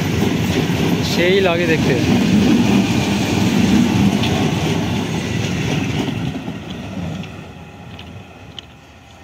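Train passing through Balagarh station on the Howrah-Katwa line: loud, close rumble and rolling rail noise that slowly fades and thins toward the end, while a person speaks over it and a horn sounds briefly.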